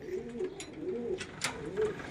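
Young pigeons, squabs in their first training, peep and coo softly in short repeated calls, faint and close, with no talk.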